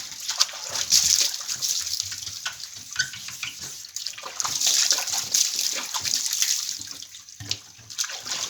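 Tap water splashes and runs over a screen printing frame as it is washed and rubbed clean, a bright uneven spattering that swells and fades in bursts with scrubbing movements close by.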